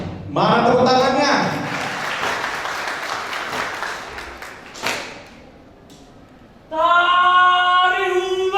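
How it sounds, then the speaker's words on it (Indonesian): An audience at a university capping and pinning ceremony applauds before a dance performance, a broad wash of clapping that fades out between bursts of loud amplified speech from an announcer. "Mana tepuk tangannya?"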